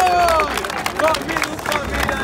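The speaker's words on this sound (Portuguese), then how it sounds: "Palmas pra essa batalha, família!" A crowd at a rap battle final in Barueri, São Paulo claps and cheers amid lively chatter, the applause steady and mid-distance with voices calling out over it.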